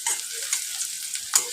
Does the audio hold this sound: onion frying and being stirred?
yes